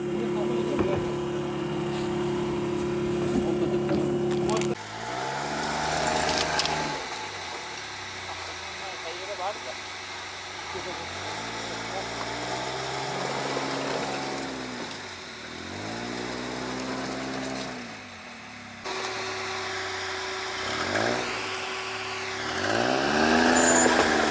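An all-terrain tracked vehicle's engine running at the water's edge in Yakutia, its pitch repeatedly rising and falling as it revs, with people talking over it.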